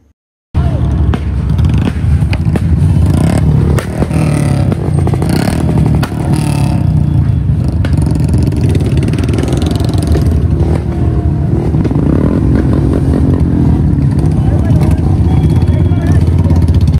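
Motorcycles, Bullets in a bike rally, rumble and rev loudly and continuously close by, with engine clatter and acceleration throughout after a short silent start.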